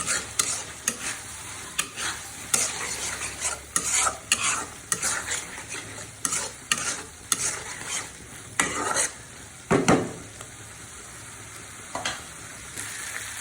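Long-cut potato pieces sautéing in a pan, with a soft steady sizzle under repeated scraping stirs of a spatula in an irregular rhythm, close and unaccompanied by talk.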